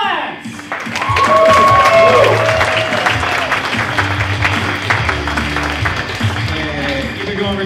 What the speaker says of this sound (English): Give it up for Dustin Slentz!